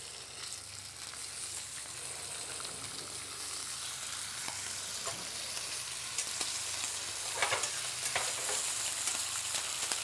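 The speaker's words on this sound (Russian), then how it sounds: "я предлагаю сначала обжарим бекон" Bacon sizzling and spitting in a hot frying pan, a steady hiss that grows slightly louder over time with scattered sharp crackles and pops near the end.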